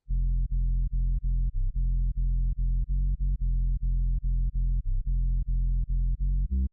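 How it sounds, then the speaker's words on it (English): A deep, booming 808 bass plays a looping pattern of short, punchy notes with occasional pitch changes, loud and upfront with nothing else playing. "On top of that, I added an 808."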